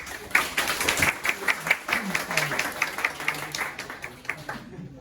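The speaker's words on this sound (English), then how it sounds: "Please give a round of applause" Applause from a small club audience at a student Toastmasters meeting as the first speaker is called up, steady clapping for several seconds with some murmuring voices underneath.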